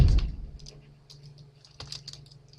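Keys tapped on a computer keyboard while pseudocode is written, a loud burst of clacks at the start, then sparse scattered keystrokes and a short quick cluster near the end.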